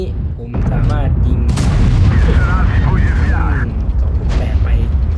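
A single deep boom of tank cannon fire rings out in a World of Tanks battle, followed by rumbling in-game mechanical noise, with someone talking over it.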